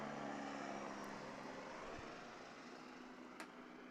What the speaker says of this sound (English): This time the helicopter is really close.